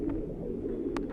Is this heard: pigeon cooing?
yes